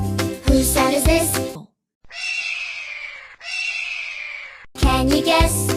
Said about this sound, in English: This is an eagle